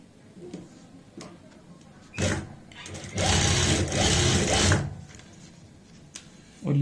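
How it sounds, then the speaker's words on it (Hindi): A sewing machine stitches the hem of a dhoti salwar in short bursts, with a brief run followed by a longer steady whir at close range, amid soft handling noises. "तो हम उतने ही इंच पे यहाँ पे इस तरीके से सिलाई लगाएंगे"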